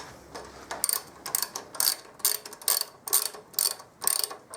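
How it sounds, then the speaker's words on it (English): A ratchet spanner tightens the small axle pinch bolts on an Aprilia Mille motorcycle, clicking in quick rapid bursts of about eight repeated strokes, close and crisp. "then do up the little pinch bolts"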